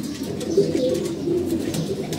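Pigeons in a loft, including a newly paired couple with freshly hatched chicks, coo in soft, low, continuous murmurs close by with no talking.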